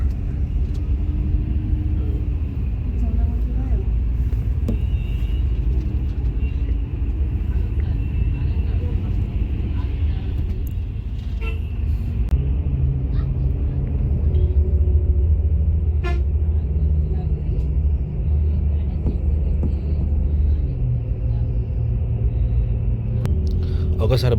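Steady low engine rumble and road noise inside an Orange Travels Volvo 9600 multi-axle AC sleeper bus on a Hyderabad to Bengaluru trip, continuous and droning, with occasional faint horn toots and a hint of voices.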